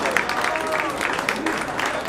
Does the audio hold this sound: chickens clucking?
no